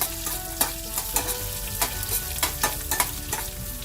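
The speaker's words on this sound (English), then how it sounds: "Now we're going to cook the onions down. We don't want them dark brown, but just very, very light." Onions cooking gently in a pan for masala dosa filling, with a steady soft sizzle and a series of scraping stirs at irregular intervals, close and moderately loud with no talking.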